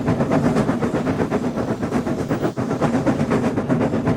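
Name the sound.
steam engine pulling an express train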